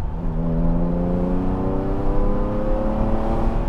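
A car engine hums steadily and rises in pitch as it accelerates, fairly quiet and smooth, with no voices.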